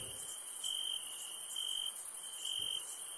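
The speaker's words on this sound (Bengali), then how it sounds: "চারিদিকে অন্ধকার, ঝিঝি পোকা ডাকছে" Crickets chirp at night in a rhythmic, high, steady trill that swells in repeated pulses, close and clear against an otherwise quiet dark setting, with no voices.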